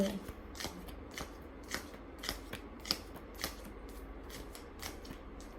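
Tarot cards are shuffled in quick, rhythmic bursts of soft papery snaps and riffles, fairly close but quiet over a steady background hiss.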